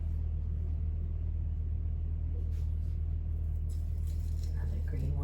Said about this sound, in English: Sorry about the noise, that's the dishwasher.